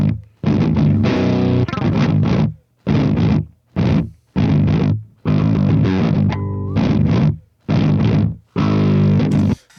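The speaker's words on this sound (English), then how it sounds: "the distortion characteristic that's going on in that amplifier, it does change as the master volume is increased" Loud, heavily distorted electric guitar through a tube amplifier with the master volume turned up, playing in short bursts separated by brief silences; saturated, gritty power-tube distortion with sustained chords.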